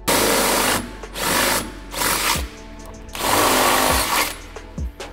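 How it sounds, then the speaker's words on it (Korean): A power drill bores bolt holes into a car's bumper rail in several loud, close bursts separated by short pauses. "표시해둔 위치를 드릴로 뚫어주면 되고요"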